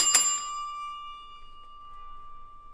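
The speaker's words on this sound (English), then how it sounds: "rings the bell as it cuts back to black" A single bell is struck once, bright and near, with a clear tone that rings on and slowly decays into near silence.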